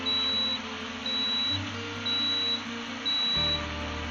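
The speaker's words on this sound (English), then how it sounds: "The beep is just my coffee percolator telling me that it's almost ready to shut off." A coffee percolator beeps four times at a steady, evenly spaced rhythm as it nears shut-off, high and thin over a constant mechanical hum; a low rumble drops away near the end.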